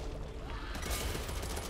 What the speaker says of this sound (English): I'm shooting anything that moves